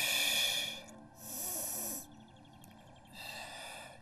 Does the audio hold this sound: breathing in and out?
yes